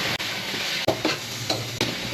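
Beef strips fry in butter in a pan, a steady close sizzle broken by several sharp stirring scrapes and clicks, loud and continuous with no voices.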